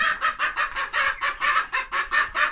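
Rapid rhythmic clucking from hens, a steady run of short, loud pulses close by with a rooster's call mixed in.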